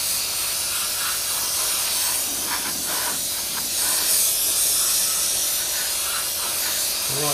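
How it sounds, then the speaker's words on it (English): Spray paint hissing onto a Tamiya 1/32 Spitfire scale model, a continuous close airbrush-like hiss held for several seconds with slight pulses in intensity, no voices. "All we do is going to spray this."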